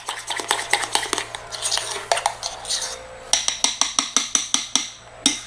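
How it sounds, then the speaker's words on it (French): A spoon scrapes and clinks briskly against a bowl while mixing bowlcake batter, a steady run of sharp metallic taps that turns into distinct rhythmic knocks near the end, close and clear with no talking. "on va déjà terminer le mélange"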